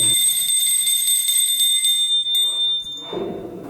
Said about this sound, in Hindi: घंटी तो बजा ही सकता हूँ.